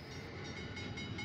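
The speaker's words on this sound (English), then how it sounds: "the Gulf Mobile and Ohio's Plug, its sole commuter train, rolls into Union Station" Gulf, Mobile and Ohio commuter train rolling into Union Station in 1970, a steady low rumble of railcars and wheels, moderately loud and continuous over a short stretch.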